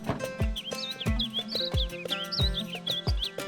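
Loud, repeated bird chirps and whistling tweets in Project Zomboid sound close, mixed with regular rhythmic thumps and clunks in the background.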